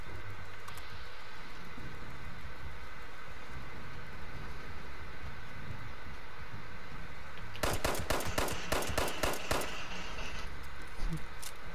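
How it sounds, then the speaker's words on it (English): A rapid burst of automatic gunfire in the video game Fallout 76 breaks in near the end, a quick string of sharp shots over a low, rumbling background. "Now, what are you still shooting me for?"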